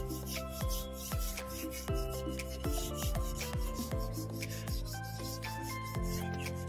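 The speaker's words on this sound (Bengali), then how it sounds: "150 নম্বর আমাদের পেপার দিয়ে, শোকা পেপার দিয়ে আমরা খাটটিকে আবার ঘষে নেব।" A wooden bed frame is rubbed by hand with 150-grit sandpaper, giving quiet, rhythmic back-and-forth rasping strokes at close range with no other sounds.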